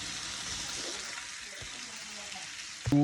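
Onions hitting hot oil with browned garlic in a pan, a steady broad sizzle that holds evenly throughout, with a short clatter near the end.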